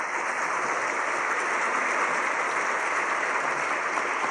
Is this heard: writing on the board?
no